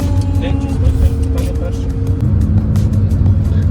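Steady engine rumble and road noise from inside a car driving home from the Carpathians, a continuous low drone throughout with faint voices in the background.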